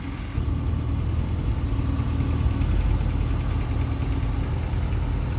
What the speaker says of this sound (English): It is just a 305, little 200 R4 transmission, but has a nice little grunt to it and a nice cruiser